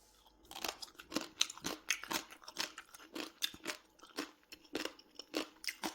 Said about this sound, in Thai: ถามว่าความกรอบยังอยู่ไหมเดี๋ยวจะกินให้ฟังนะ